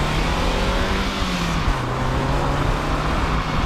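A 1996 Toyota MR2, started after sitting five years, runs with its engine held at a loud, sustained high rev, a dense continuous drone with a wavering pitch, close and alone.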